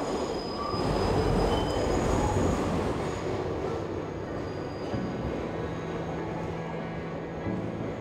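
A New York City Subway 6 train running past its last stop toward the old City Hall loop: a loud, continuous rail rumble with squealing wheels and no talking.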